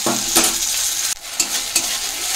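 Ginger-garlic paste hits browned fried onions in a pan, a steady close sizzle broken by a few sharp stirring scrapes and a brief dip as the spoon moves, no voices.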